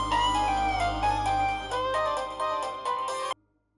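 A mobile phone rings in a home with a melodic tonal ringtone, loud and close and playing steadily for about three seconds before cutting off abruptly into silence.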